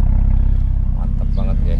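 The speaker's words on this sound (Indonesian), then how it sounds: "Ini knalpotnya 4. Jadi kalau digeber, mantap." A car fitted with four exhaust pipes revs hard, a loud, dense low engine roar holding steady close by for under two seconds, with a voice breaking in briefly near the end.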